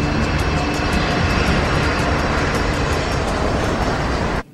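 A fixed-wing airliner roars steadily at close range during a landing, its engine drone loud and continuous before cutting off abruptly at the end.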